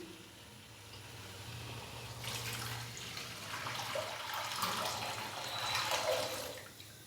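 Water, about 1 to 1.5 litres, rushes steadily into a pot of chicken soup for several seconds, a broad splashing pour that swells and continues without any voices.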